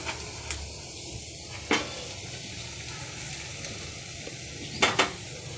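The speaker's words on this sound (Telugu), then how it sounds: "అంతా మంచిగా ఫ్రై అయినాయి. మొత్తం ఉడికిపోయినాయి, రోస్ట్గా అయిపోయినాయి. ఇప్పుడు పక్కకు తీసేసుకుందాం." Pieces of Apollo fish frying in a pan give a steady low sizzle, broken by a few sharp clinks and scrapes as the fried pieces are lifted out, with no voices.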